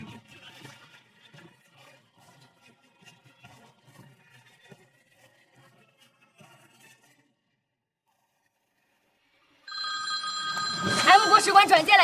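A telephone bell rings loudly and continuously near the end with an embassy's transferred call, a harsh metallic trill that follows faint scattered sounds and a few seconds of near silence.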